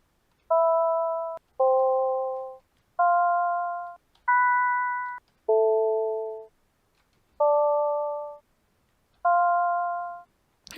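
Synthesized bell-like tones from a home-coded software synthesizer play seven separate notes at a steady pace, each one sustained and then decaying. The notes shift in pitch and sound clean and alone.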